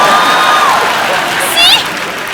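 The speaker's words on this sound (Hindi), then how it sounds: "ठोको ताली" Studio audience at a comedy talk show bursts into sustained applause and cheering, a steady wash of clapping with a few whoops and voices rising over it.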